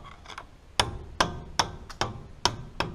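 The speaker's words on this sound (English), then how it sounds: "I honestly just take a big flathead and a hammer and just kind of punch this little piece out." Hammer blows on a big flathead screwdriver punching a small piece out of a wheel bearing assembly, six sharp metallic strikes at a steady, slightly uneven rhythm, close and loud with no talking.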